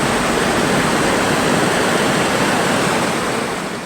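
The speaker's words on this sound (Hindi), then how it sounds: "एक युवक सड़क पर पानी के तेज बहाव में बह गया।" Fast floodwater rushes across a road in Gujarat during flooding, a loud, unbroken roar of churning water that holds steady throughout and fades slightly at the end.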